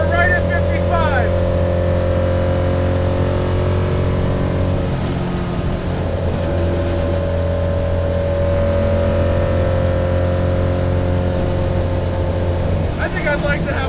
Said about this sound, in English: That is one of the best sounding engines I've heard in a while